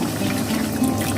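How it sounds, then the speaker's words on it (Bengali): Water pours steadily into a pan of methi chicken cooking with yogurt and meat, a continuous close splashing fill with no talk. "এবার জল দিয়ে দেবো।"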